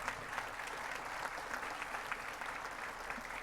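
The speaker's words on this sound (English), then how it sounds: "let's clap for Natalie" Steady, dense applause from a large audience at a Conestoga College spring convocation ceremony, sustained without a break and heard from within the hall.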